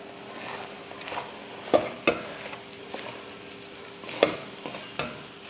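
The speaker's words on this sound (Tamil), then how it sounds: "இப்போ இதை நல்லா கலந்துடலாம்" Egg rice with soy sauce and salt is stirred in a hot pan: a spoon scrapes and turns it in several sharp strokes over a soft, steady sizzle.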